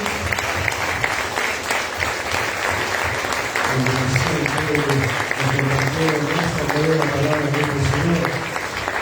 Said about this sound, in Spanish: Dale un aplauso al Señor por todo lo que dice.